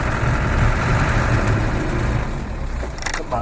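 Land Rover 110 engine running steadily with a low, continuous idle-like rumble during a test drive around town after a snow storm, close and loud throughout with no talk.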